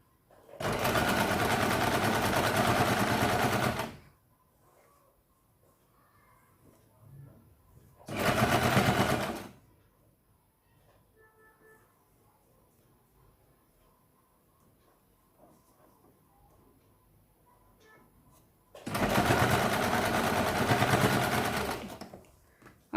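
A sewing machine stitching a katori blouse runs in three loud, steady bursts of rapid mechanical chatter, the first and last several seconds long, with a short one between them and quiet pauses in the gaps.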